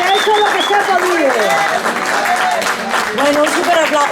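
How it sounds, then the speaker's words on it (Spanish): An audience applauds Pablo at a live show at La Gata in A Coruña, a dense wash of clapping heard beneath a loud voice that carries over the crowd throughout. "un super aplauso a Pablo"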